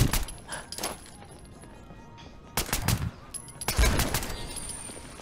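Enemy gunfire in the Fallout 76 video game comes in several loud bursts of rapid shots with brief gaps between them, sounding close and sharp with no talk over it.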